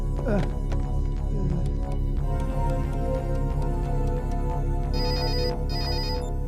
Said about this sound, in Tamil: முதல்ல தம்பிக்கு போன் பண்ணுவோம்